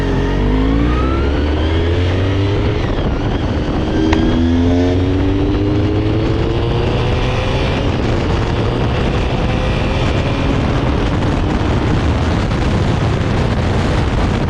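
A 1990 Honda VFR400R NC30 motorcycle ridden on a clear road, its engine loud and close, revving through rising and falling pitch sweeps as it accelerates and shifts, continuous for the whole stretch with no talk.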